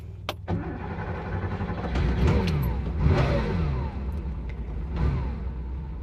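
A vintage carbureted Porsche 911 Targa, one of the oldest of its kind, cranks and fires up, its engine catching quickly and settling into a steady, rumbling idle with a few rising revs, close and loud.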